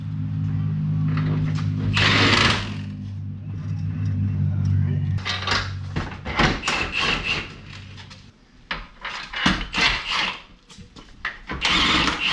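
A ratchet cranks 17 mm subframe bolts during a Honda Civic automatic transmission install, with bursts of rapid clicking pawl strokes and clanks of tools over a steady background hum, close and fairly loud.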